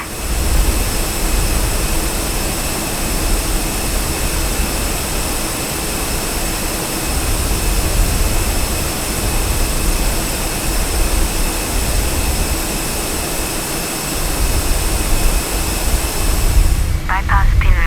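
Airbus A320 jet engines running in Microsoft Flight Simulator, a steady loud whine and roar that holds evenly for the whole stretch with faint talk underneath.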